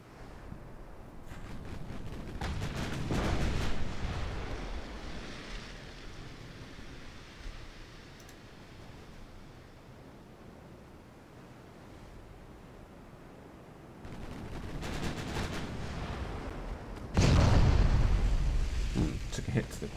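Naval warfare video game battle in a Korean campaign: deep rumbling booms from ship guns and explosions roll over a constant windy, surf-like wash, with a heavy close blast near the end.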